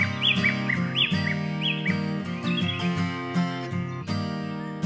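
Cartoon birds chirp in a run of short whistled tweets over a cheerful backing tune, bright and close throughout.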